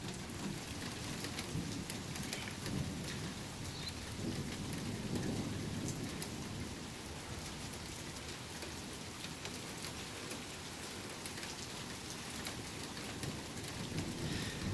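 Heavy rain pours steadily during a night thunderstorm that brought quarter-sized hail, with low rumbles of thunder rolling underneath and scattered drops pattering on nearby surfaces.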